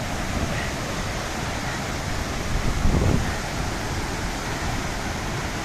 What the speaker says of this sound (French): l'eau des glaciers qui descend dans cette cascade